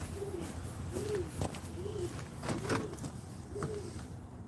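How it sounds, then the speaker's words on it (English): A pigeon coos outdoors on a snowy day, about five soft rising-and-falling calls in a steady rhythm, fairly close but quiet against light background noise. "I hear a pigeon wooing."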